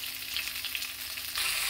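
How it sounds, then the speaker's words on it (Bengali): Fish frying hard in a pan, a steady loud hiss and sizzle of hot oil that swells a little louder near the end, with no voices. "আমি একটু কড়া করেই মাছটা ভাজা করি"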